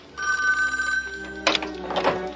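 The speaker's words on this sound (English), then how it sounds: "And that was the phone call that informed you that Hugo Victor was murdered" A telephone rings in a TV cop comedy scene, steady bell tones with a short burst of movement and clatter as the call is answered, near and fairly loud.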